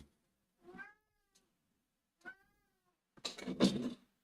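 A cat meows twice, short and fairly faint, with a gap between the calls, then gives a louder, rougher drawn-out yowl. No voices are heard.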